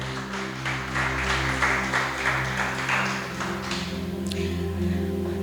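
A church congregation applauds during a worship service, steady moderate clapping over sustained organ or keyboard chords, continuing throughout with a brief faint voice near the end.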